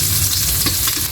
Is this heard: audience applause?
no